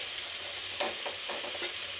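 Taro stolons and dhenki greens fry gently over low heat with a faint, soft sizzle and a few light stirring touches.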